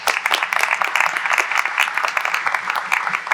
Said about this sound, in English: So if we could have a quick round of applause,